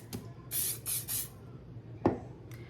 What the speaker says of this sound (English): And then flip it over and spray it again.